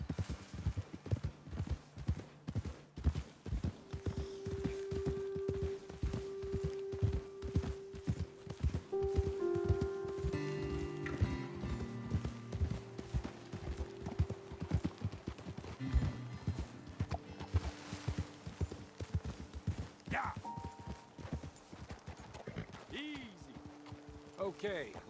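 Horse hooves clip-clopping steadily in Red Dead Redemption 2 as riders travel up a trail, a brisk continuous rhythm close by with an occasional whinny and game music and voices underneath.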